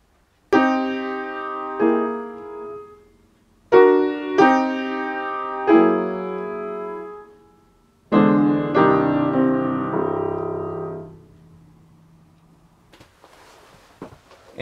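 Solo piano plays the theme of a Lili Boulanger piano variation, slow separated chords and phrases with sustained decays and pauses between them, ending in a long held resonance that fades out.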